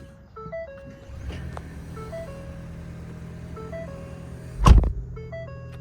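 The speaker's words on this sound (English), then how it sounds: "Let me start the car so it stops chiming." Inside a Ford Maverick, a repeating electronic warning chime steps through short tonal beeps over a low idling hum, with a brief loud thump partway through.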